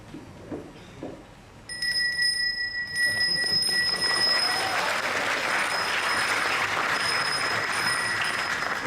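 A Balinese genta bell rung by the Governor of Bali at the closing of Bali Language Month, producing bright sustained metallic tones over a loud, continuous crowd wash that sounds like applause.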